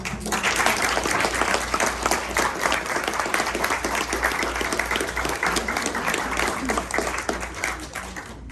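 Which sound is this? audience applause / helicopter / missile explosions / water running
audience applause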